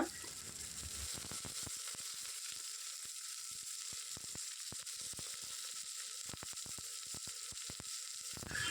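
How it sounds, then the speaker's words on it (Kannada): Onions and green chillies fry in oil after mustard seeds have spluttered, for a village-style mutton sambar: a faint, steady sizzle broken by scattered small crackles and pops. "ಸಾಸಿವೆ ಸಿಡಿದ ನಂತರ ಈರುಳ್ಳಿ ಹಾಕ್ಕೊಳ್ತಾ ಇದ್ದೀನಿ ಆಮೇಲೆ ಹಸಿರು ಮೆಣಸಿನ್ಕಾಯಿನ ಹಾಕ್ಕೊಳ್ತಾ ಇದ್ದೀನಿ"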